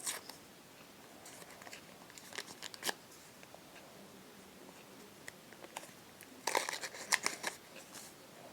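Paper crinkles and tears in short scattered bursts, close and quiet, ending in a louder rustling flurry as the packet is pulled open.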